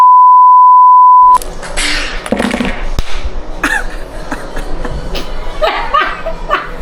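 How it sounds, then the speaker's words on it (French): A single steady censor beep tone sounds alone for just over a second, then cuts to people chatting and laughing in the background. "Ah oui, c'est bipé là."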